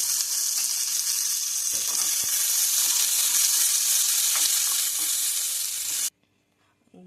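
A single garlic clove fries in oil in a pan for a chutney, giving a steady, loud, close sizzle that runs without a break for about six seconds and then cuts off abruptly into near silence.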